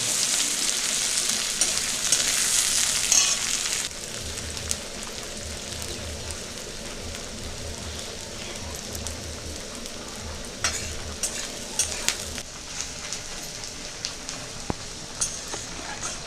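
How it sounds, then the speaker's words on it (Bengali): Chopped onions with cinnamon frying in a pan, with a steady loud sizzle and scraping stirring strokes that ease to a softer crackle partway through; no talk. "পেঁয়াজটা একটু লাল লাল করে ভেজে নেব।"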